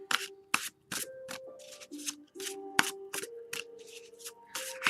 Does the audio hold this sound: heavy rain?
no